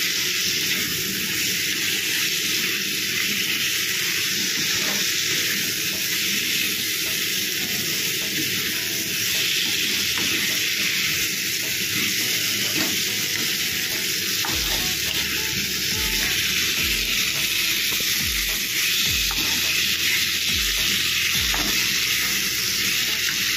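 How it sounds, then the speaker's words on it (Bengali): Mushrooms fry in a pan of spiced masala with a loud, dense, unbroken sizzle, while a utensil stirs and scrapes through them in slow repeated strokes. "মাশরুম দিয়ে এবার কষানো হবে।"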